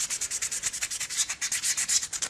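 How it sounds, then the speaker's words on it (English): Sanding sponge scuffing the plastic surface of a 1:100 model kit, a steady run of quick, rhythmic back-and-forth rasping strokes, close and fairly loud, with no talking. "Then I'll go back over with my sanding sponge and give everything a good scuff."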